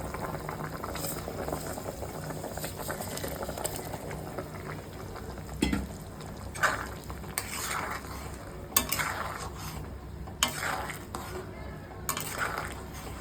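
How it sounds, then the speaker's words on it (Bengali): Fish curry broth bubbles in a pan, a soft steady boil with gentle liquid burbling, broken by occasional clinks of a spoon or lid against the pot and faint indistinct voices nearby. "মাছের ঝোল ফুটে গেছে, এবার আমি মাছগুলো দিয়ে দেব।"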